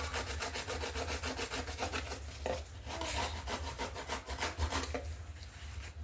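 Handmade paper journal being rubbed to distress it, a steady, close, scratchy rasping in quick repeated strokes with no talk.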